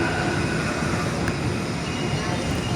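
Steady platform ambience at Nambo Station, a railway stop serving passengers and cement freight, with a continuous broadband rail rumble and hum and a faint distant voice mixed in.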